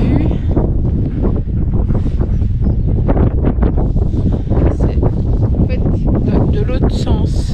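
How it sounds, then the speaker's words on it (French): Strong wind buffets the microphone at a coastal viewpoint at Le Tréport, France, a constant low roar with gusty rumbling throughout. "il y a énormément de vent"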